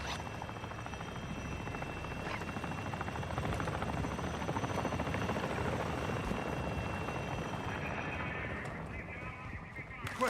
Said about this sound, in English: Be advised, the enemy attack helo is approaching your location.